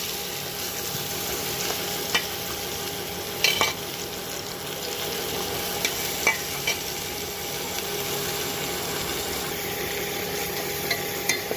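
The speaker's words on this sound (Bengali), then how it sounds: "পটলগুলো ভালোই ভাজা হয়ে গেছে।" Pieces of pointed gourd fry in a pan, keeping up a constant close sizzle broken by occasional scrapes and taps from a spatula stirring them.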